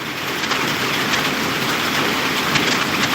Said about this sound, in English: Man, this rain.